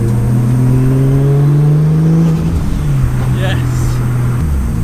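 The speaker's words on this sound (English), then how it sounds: "You all know the sound of this car is absolutely amazing" A loud 700 bhp Nissan Skyline R33 engine revving hard, its pitch climbing steadily then dropping back and rising again, close and powerful.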